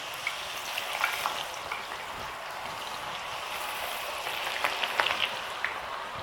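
Potatoes sizzle and fry in very hot oil in a kadai, a dense, steady crackle with scattered sharper pops, close up and continuous with no voices.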